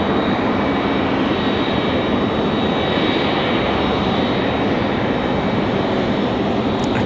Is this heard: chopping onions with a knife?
no